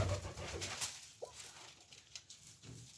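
Pigeons coo softly at their nest with eggs, a few faint, low calls scattered over quiet background rustle.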